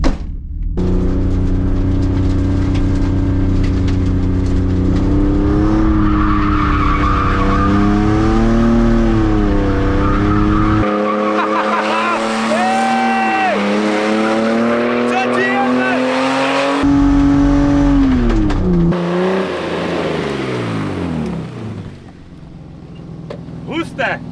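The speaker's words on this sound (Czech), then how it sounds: "jakmile dáš ten plyn a začneš driftovat, tak už ho podrž" A car drifting on a track, its engine revving up and down in rising and falling sweeps while tires squeal through long slides, close and loud, with someone talking over parts of it before it fades.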